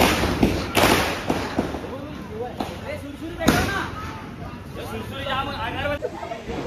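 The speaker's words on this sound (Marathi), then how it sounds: "क्रेझी फटाके फोडायचं सेशन चालू आहे" Several sharp Diwali firecracker bangs burst at irregular intervals over a background of crowd chatter and voices.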